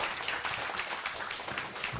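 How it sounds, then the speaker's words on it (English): An audience at an academic conference plenary session applauds a keynote speaker, a brief steady patter of clapping, fairly faint and without talk. "please give big applause for Prof. Remy"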